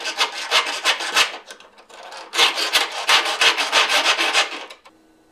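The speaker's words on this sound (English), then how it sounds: "I'm going to grab a couple different files here, and I'm going to clean out the ragged edges inside." Hand files rasp against the ragged inner edges of cut metal tubing in quick, rhythmic back-and-forth strokes, close and loud, pausing briefly partway before the strokes resume.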